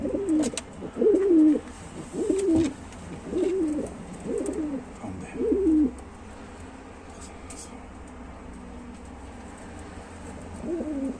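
Pigeons coo in a repeated series of soft, throaty calls, about six in a row, then a pause before one more coo; faint background noise.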